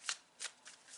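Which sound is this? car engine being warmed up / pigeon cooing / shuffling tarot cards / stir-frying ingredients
shuffling tarot cards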